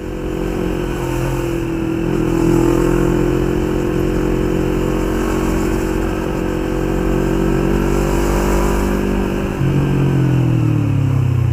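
A 2016 Yamaha MT-25 250cc two-cylinder motorcycle ridden and accelerating, its engine droning loud and steady with a long pull, pitch rising and dropping briefly near the end as it shifts and revs again.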